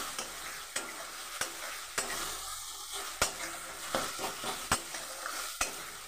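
Spice paste stirred and sizzling in hot oil for an egg curry, with a steady fry hiss and repeated sharp scrapes of a spoon against the pan, fairly close and without any talking.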